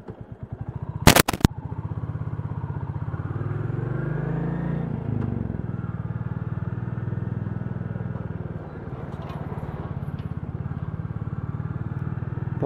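Royal Enfield Classic 350 motorcycle being ridden, a steady engine drone with a low rumble that rises and falls with speed, near and continuous throughout, with a sharp broadband burst of wind or handling noise early on.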